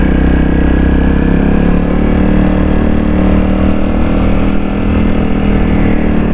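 Honda CRF 250L motorcycle pulling hard at full throttle on a gravel and rock trail, a loud, steady close engine drone with dense low rumble that holds without pause.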